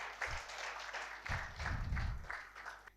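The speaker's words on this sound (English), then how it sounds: "Let's applaud once again Mayor of Ahmedabad." An audience at a regional management conference applauds a city mayor, a steady wash of clapping from many hands that swells and continues throughout, fairly far off in a large hall.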